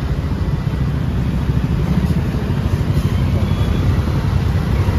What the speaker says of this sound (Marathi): जास्त ट्रॅफिक लागलेली आहे.